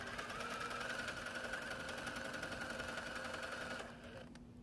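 A sewing machine stitches quilt binding for a mitered seam with a fast, even mechanical whir and rhythmic needle chatter, running steadily before slowing and stopping near the end, fairly quiet.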